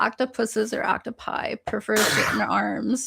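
A single abrupt sneeze bursts out near the end, cutting across steady close conversational talk in a podcast-style discussion.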